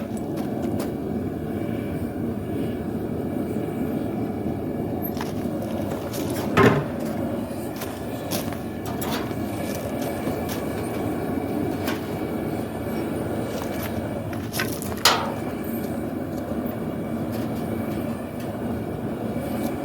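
A Vevor two-burner propane forge with its choke nearly closed roars as a steady, broad rushing hiss throughout, with a couple of brief knocks or clanks partway through, and no speech.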